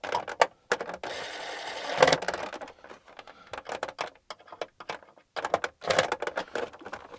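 A small power driver runs screws into a Bluetti EB3A portable power station mount in short, irregular bursts of whirring and clicking, with gaps of quiet between them.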